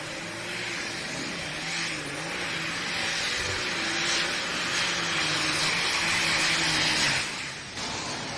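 A big tractor pulling engine spools up at a national championship pull, a loud sustained roar with rising and wavering harmonic tones that holds steady, then briefly drops off near the end, heard alone without talk.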